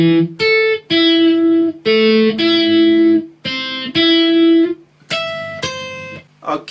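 Electric guitar plays a song's riff, loud and close, in a run of sustained, slightly distorted notes and chords with short gaps between phrases, with no talking.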